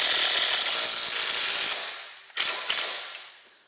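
A Harbor Freight Earthquake impact wrench torques a new nut on front car suspension: a long, loud, steady hammering rattle that fades out, then two short close bursts.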